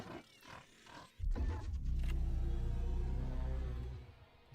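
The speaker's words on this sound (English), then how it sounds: "Okay, see the roar?" A dinosaur in the Dinosaur Simulator video game lets out a long, deep roar that starts suddenly and rumbles loudly for about three seconds before fading, following some quieter sounds.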